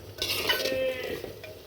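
A spoon scrapes and clinks through a curry mixture in a pan, a few short stirring strokes close up with a faint sizzle beneath, no talking.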